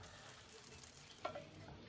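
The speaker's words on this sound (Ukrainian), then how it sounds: "Наші млинчики будемо смажити на каплі олії." Soft, steady sizzling of small pancakes frying in a drop of oil in a pan, quiet and continuous with a faint scrape or stir midway.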